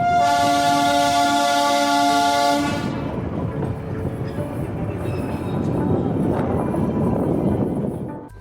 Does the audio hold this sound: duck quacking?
no